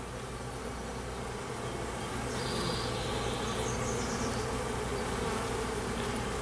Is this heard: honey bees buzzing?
yes